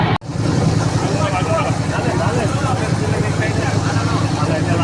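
A trawler's engine drones steadily as the boat moves along the Turag river in light drizzle, a loud continuous low rumble with wind noise and faint voices underneath, following a brief cut at the start.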